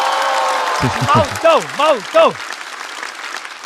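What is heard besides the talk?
audience applause and cheering for a comedian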